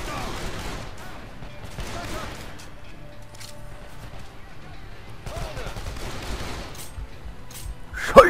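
Gunfire in the video game Call of Juarez: The Cartel comes as scattered bursts and single shots, with a louder crack at the end and people talking in between.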